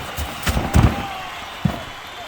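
At a wrestling match, a wrestler is slammed down onto a bat in the ring, giving a couple of short, heavy thuds over crowd noise and a commentator talking.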